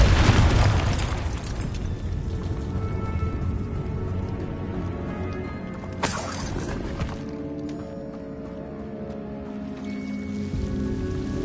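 Confringo explosion spell cast in Hogwarts Legacy, a loud blast at the start followed by crackling, shattering debris, a second sharp burst midway, then a lingering rumble under game music.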